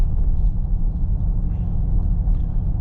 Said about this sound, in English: nice burbles from the V8